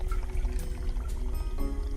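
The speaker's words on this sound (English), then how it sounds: "if we pour some water into this vessel" Water being poured into a metal cooking vessel during a heating demonstration, a steady close trickling and splashing pour that runs continuously with a faint ringing tone.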